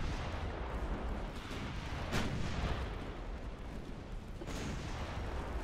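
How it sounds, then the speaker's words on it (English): Naval 11-inch guns firing during a battle in the video game Ultimate Admiral Dreadnoughts, heard as dense, continuous booming rumble with two sharper blasts standing out over the din. "Heavy damage by the 11-inch guns."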